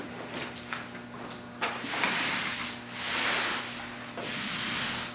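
Roller spreading a coat of laminate adhesive across an arcade cabinet panel, producing a continuous rubbing, rasping sweep in three long strokes heard close up, with a steady low hum underneath.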